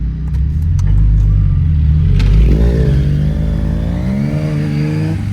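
An 8th-generation Honda Civic Si fitted with a Hybrid Racing cold air intake accelerates hard, its engine note climbing loud and close through rising revs with a deep rumbling intake tone.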